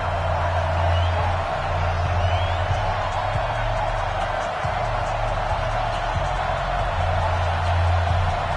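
Steady stadium crowd roar in a Madden NFL football game between the Carolina Panthers and the New Orleans Saints, a continuous dense wash of cheering at even loudness throughout with no clear voice on top.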